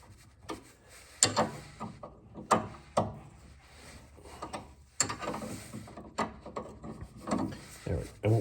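Ratcheting wrench clicking as it turns a tight front shock bolt on a Chrysler Crossfire during a Bilstein shock install; bursts of close, sharp ratchet clicks come in irregular spurts with short pauses between them, no talking.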